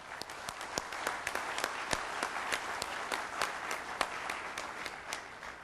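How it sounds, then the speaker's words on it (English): An audience at the Global Peace Convention 2009 opening plenary applauds young leaders, a steady crackle of many hands clapping at moderate volume in a large hall. "Could you give them a round of applause?"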